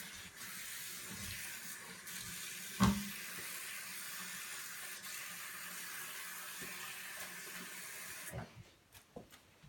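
Warm tap water runs steadily into a sink while hands are rinsed, a continuous close wash with one brief splash near the middle, ending in a few drips and light clatter as the flow stops.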